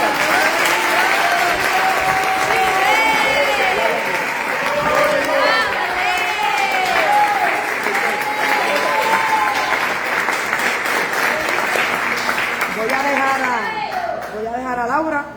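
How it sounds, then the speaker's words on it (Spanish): A large audience at a youth church conference claps loudly and continuously for a long stretch, with scattered cheers and whoops rising over the steady roar of applause, and voices calling out within the crowd. "Denle un aplauso a Cristo."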